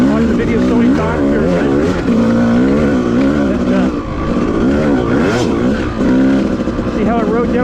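Yamaha YZ250 two-stroke dirt bike accelerating on a woods trail, loud engine rising and falling through repeated revs, with a person talking over it.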